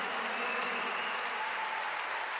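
A crowd applauds steadily at a women's under-18 basketball championship final as players step onto the podium, a dense, even wash of clapping that holds at constant loudness throughout.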